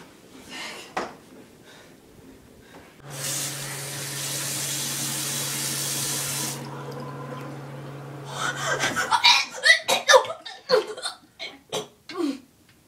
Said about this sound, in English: I need to wash my face.